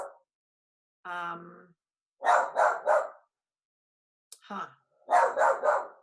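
A dog barks in two bursts of three rapid barks, moderately near, with a brief voice speaking between them and quiet gaps.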